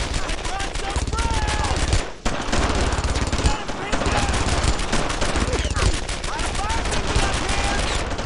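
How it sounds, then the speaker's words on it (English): Dense, loud machine-gun and rifle fire in the World War II shooter Brothers in Arms: Earned in Blood, rapid bursts overlapping continuously from near and far with only a brief gap, and voices shouting faintly in the mix. "Machine gun fire. All kinds of fire."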